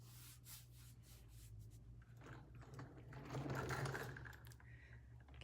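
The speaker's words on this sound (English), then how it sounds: "Okay, still dry brushing." A brush dry-brushing paint back and forth over a textured surface, soft faint scratchy rubbing strokes close up, swelling slightly in the middle.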